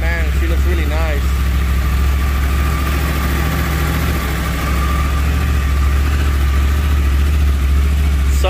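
A 2012 Yamaha R1 motorcycle with a crossplane crankshaft idles close by, a loud, steady, deep engine rumble held throughout, with someone talking over it at the start.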